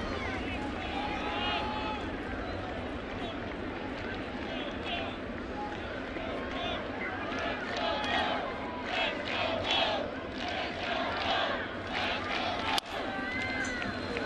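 A sellout crowd of about 49,000 at Yankee Stadium in the Bronx roars continuously at a baseball game, a dense, steady wash of cheering and babble.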